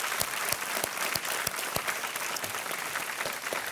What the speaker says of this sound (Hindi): हमारी जो जनता है यहाँ पर आपका अभिनंदन कर रही है तालियों के साथ